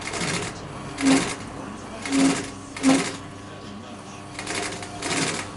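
Sewing machine stitching sofa upholstery fabric in short bursts, three louder runs of steady mechanical whirring with quieter stitching between, close and clear alongside occasional speech.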